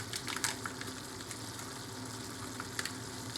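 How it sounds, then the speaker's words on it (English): Cream cheese being stirred into a keto cheeseburger casserole with ground beef in a hot pan, giving a steady soft sizzle with a few sharper scraping clicks of the spoon, close and with no talk. "you want to just stir this all the way in until it is completely melted down"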